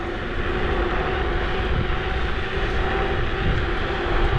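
A KuKirin G2 electric scooter cruising on a straight at around 32–39 km/h, with a loud, steady rush of wind and motor noise that holds level throughout.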